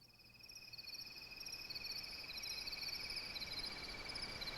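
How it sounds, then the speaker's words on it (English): A Wavestation synthesizer sample of crickets layered with white noise: steady, high, pulsing chirps over a soft hiss that swells slightly, quiet and unbroken throughout. "Like this one is crickets and white noise."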